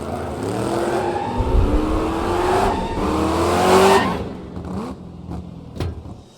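A car in the Lego Batman video game revs and accelerates with rising engine tones and some tire squeal, then the engine noise falls away into a few sharp game effects.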